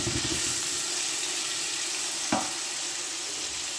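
Two tablespoons of biryani masala fry in oil in a pan for a pea pulao, giving a steady close sizzling hiss with one brief clatter of a spoon partway through.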